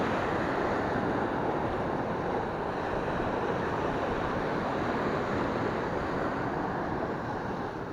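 Stormy sea waves breaking and foaming against rocks on the coast near Mersin, a dense, continuous roaring wash of surf mixed with wind noise, loud and steady with no voices.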